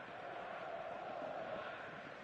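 Stadium crowd noise from the eFootball 2026 video game, a steady, dense roar of spectators building before kickoff, fairly quiet and continuous throughout without any distinct voices.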